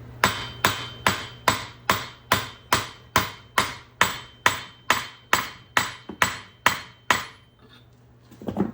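A ball joint is pressed into a control arm for a 2009-2020 Dodge Journey, about sixteen sharp, evenly spaced metallic hammer blows ringing close up, then a brief pause.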